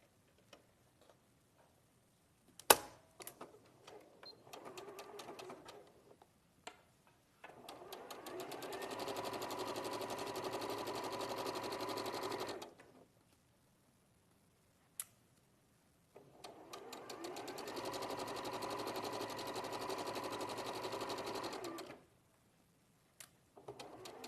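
A sewing machine stitches a frill in two long steady runs of rapid mechanical whirring, separated by quiet pauses with small clicks and handling noises, close and clear.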